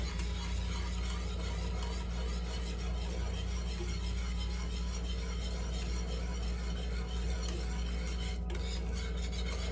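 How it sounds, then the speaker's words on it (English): A cloudy, thick rock candy sugar solution is stirred continuously, giving a steady close scraping and rubbing sound against the container with faint clinks, no talking. "as I keep stirring and stirring and stirring, it won't go clear on this"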